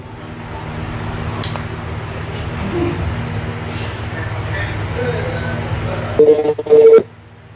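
A phone emits short dialing tones near the end of the clip to place a call, after a steady hum of background traffic noise.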